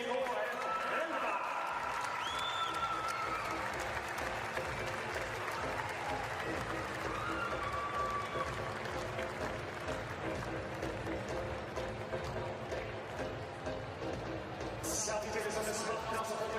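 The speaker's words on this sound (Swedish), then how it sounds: "Mina damer och herrar, ge en varm applåd till Sirius FCC P10 och hjälpen med invigning och elva." Crowd applause fills an arena at the SSL Finals floorball event as a team is honoured at the award ceremony, steady and sustained, with a voice speaking over the noise and a whistle-like tone near the end.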